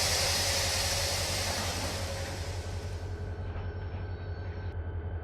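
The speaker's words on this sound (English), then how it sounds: "So we'll go ahead and start slowing the train down here, getting ready to come to a stop." A Norfolk Southern C42 local freight train in the Run8 Train Simulator game slows toward a stop, with a pulsing low rumble under broadband hiss that fades as the train decelerates, ending in a quieter steady tone.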